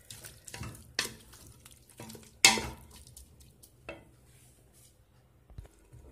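Salt and pepper go into food frying in a pan for a traditional Kabyle dish, with scattered utensil clinks and scrapes, one sharp clatter, and a faint sizzle underneath, close and fairly quiet.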